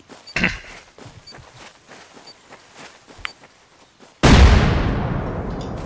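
Explosive charges blast open a door while raiding a neighbour's base in the multiplayer survival game Rust: scattered small pops and thuds, then one sudden loud explosion with a long roaring decay close by.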